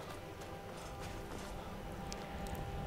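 Horse hoofbeats in Skyrim clip-clop steadily at a moderate pace over a dense background of ambient noise, with a few brief higher clicks scattered through.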